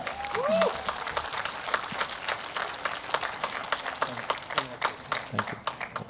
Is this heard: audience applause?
yes